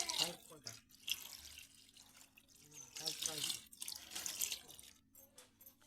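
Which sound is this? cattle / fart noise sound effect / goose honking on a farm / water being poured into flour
water being poured into flour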